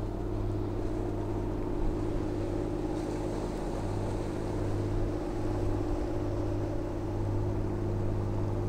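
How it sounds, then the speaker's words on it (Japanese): A boat motors past near the mouth of the Tenryu River, its engine a steady low droning hum with a faint airy wash, continuous and moderately distant. "船が来ましたね。"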